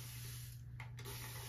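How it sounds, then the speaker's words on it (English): Water from a continuous-mist spray bottle sprays onto curly hair, a steady close hiss running the whole time with a brief break partway through. "this is one of those spray bottles where when you spray it, it just keeps going and going"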